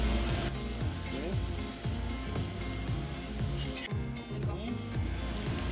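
Bay leaves, cloves and cardamom sizzling in hot oil as the first spices for chicken biryani, a loud steady crackling fry with a clatter of a utensil midway.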